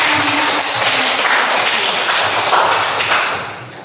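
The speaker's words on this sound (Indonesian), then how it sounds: "tepuk tangan untuk kelompok 1" Students in a primary classroom applaud for group 1, a continuous, loud wash of clapping that holds steady and fades slightly at the close.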